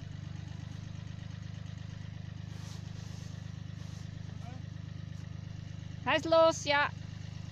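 A tractor engine idles in a steady, low, even hum throughout, with a person speaking briefly near the end over the running engine.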